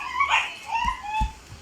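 A dog whimpers and yips indoors at home, with thin, rising whines followed by a few short, soft yelps close by, and no talking.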